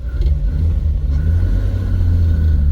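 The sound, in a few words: 1951 Chevrolet Bel Air engine with overdrive, moving off on a hill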